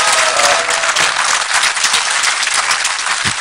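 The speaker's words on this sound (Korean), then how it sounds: "박수 한번 크게 좀 쳐주십시오" A large audience at a Korean public dialogue event claps loudly and steadily for several seconds, dense applause filling the room without pause.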